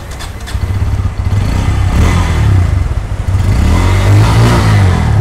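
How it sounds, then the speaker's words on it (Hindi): A Bajaj Pulsar motorcycle engine turns over and catches, idling with a rough throb and a couple of revs, heard up close with no talking. "बाइक स्टार्ट हो जा भाई।"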